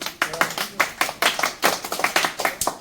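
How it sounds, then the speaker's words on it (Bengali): A small group of children clap their hands in loose, uneven bursts, close and fairly loud, cheering a young rider on a 49cc kids' fat bike. "আচ্ছা হাততালি দাও সবাই হাততালি দাও"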